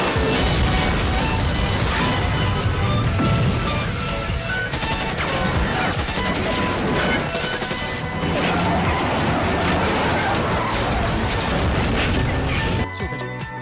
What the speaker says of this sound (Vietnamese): Cùng với một tiếng nổ lớn vang lên